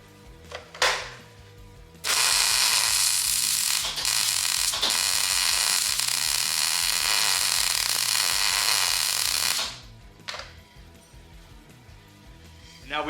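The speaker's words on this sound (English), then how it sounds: "I'm gonna plug weld and fill that hole in with weld" A welder plug-welding a hole in the frame of a Wheel Horse mud mower gives a loud, steady crackling buzz lasting about eight seconds, with faint sounds before and after.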